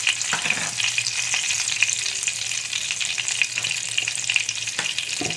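Whole cumin and coriander seeds frying in a small amount of oil, a close, steady crackling sizzle with occasional sharper pops and stirring scrapes.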